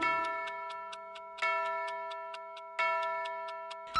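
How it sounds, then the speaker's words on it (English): A cartoon clock in a nursery rhyme song strikes three bright ringing chimes at even intervals, each followed by a quick run of sharp, steady ticks. "The clock struck three."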